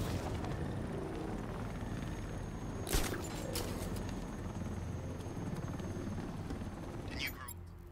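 A helicopter in Batman: Arkham Knight: continuous rotor thrum with game sound effects, a couple of sharp bursts and faint speech beneath the steady engine noise.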